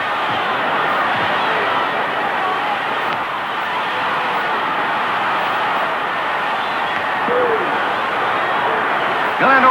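A boxing crowd roars at a Joe Louis–era fight as Tony Galento is knocked down, a dense, wild, sustained wall of screaming that runs throughout with a commentator's voice over it.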